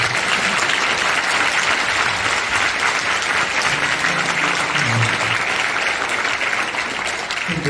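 A congregation at a National Assembly prayer breakfast for the March 1st Independence Movement anniversary gives loud, sustained applause, dense and even clapping filling the room, with faint murmurs of voices underneath.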